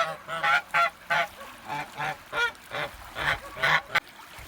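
Kholmogory geese honking near water while the ganders peck at each other, a string of loud, nasal honks in an uneven rhythm, close by, with no talk.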